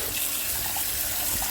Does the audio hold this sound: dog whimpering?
no